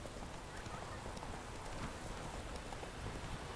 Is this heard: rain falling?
yes